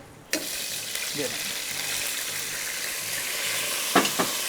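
Beef for Peshawari namkeen sizzles in a pot as stock and water are added and stirred, giving a steady, close frying hiss with a couple of sharp utensil knocks near the end.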